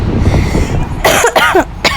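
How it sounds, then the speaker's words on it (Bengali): A woman who has had a lingering cough coughs close by in a kitchen while making rotis, two or three harsh bursts in quick succession after a stretch of low background rumble. "একটু কাশি হয়েছে"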